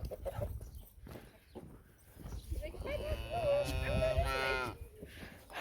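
Jersey calves on a farm moo in a long, loud, wavering bellow after a stretch of rustling and scattered noises, with faint bird calls in the background.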